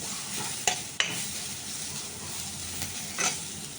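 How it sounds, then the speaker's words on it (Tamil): Curry leaves sautéing in a pan while fish moilee is cooked, giving a steady close sizzle with soft stirring scrapes and a few sharp clinks near the start and end, alone with no talk. "போட்டு நல்லா ஒரு வதக்கிடுங்க."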